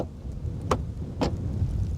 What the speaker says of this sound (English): this is what the rear door sounds like